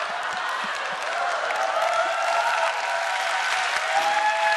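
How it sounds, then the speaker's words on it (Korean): A steady wash of audience applause, many hands clapping together, continues evenly throughout with a light crowd murmur underneath. "지금 박수 칠 때와 치지 말아야 할 때를 구분 전혀 못하고 있어요."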